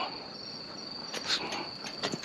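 Many crickets chirp beside a road at night in Japan, a steady high-pitched ringing trill that holds throughout, with a few louder nearby chirps and soft rustles standing out over it.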